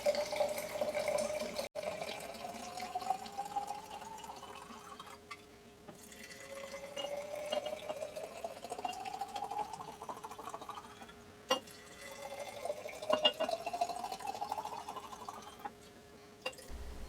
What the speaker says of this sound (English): pour it about 1 inch from the top of your jar